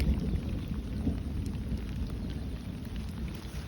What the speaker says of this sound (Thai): พอดีเลยครับฝนมันตก